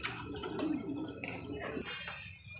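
Khaki racer and lotan pigeons coo softly at close range, a low, rolling murmur repeating quietly against a hushed background.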